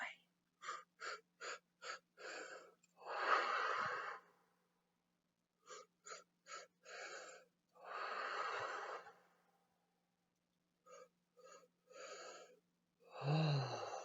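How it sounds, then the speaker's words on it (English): Deep balloon-breathing exercise: a series of quick sharp inhaled gasps followed by long audible exhales, repeated in several rounds, close and fairly loud against silence, with a soft hum in the background. "balloon breathing"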